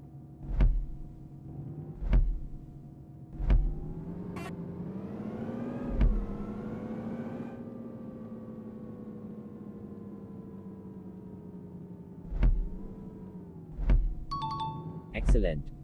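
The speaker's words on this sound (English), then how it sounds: "Now turn on the engine. Now accelerate towards the marker and stop inside it." A bus engine in the Indian Bus Simulator game hums steadily and rises in pitch as it accelerates, then settles, with sharp clicks repeating through it and an in-game voice giving instructions.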